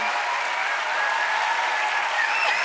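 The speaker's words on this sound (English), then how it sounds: "Please give a big hand." An audience at the Reeperbahn Festival 2022 opening show applauds steadily and loudly, a dense wash of clapping that fills the whole stretch without pause.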